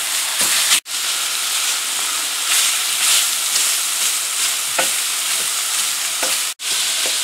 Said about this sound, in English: I'm just going to break the sausage up as it cooks here